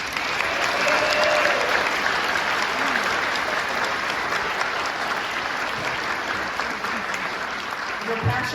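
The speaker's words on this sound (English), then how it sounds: "let's give them one more round of applause for their dedication to New Britain and this event" An audience at a tuba Christmas event in New Britain applauds warmly and continuously, a dense, sustained clapping with no speech.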